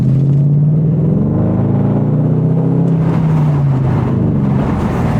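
Lexus SC 430 engine running while driving, a loud steady low hum with a slight pitch swell and fall, heard alone without speech.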